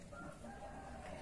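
Chickens cluck and a rooster crows faintly in the distance in a rural Javanese village, heard under a steady background hiss with no talk.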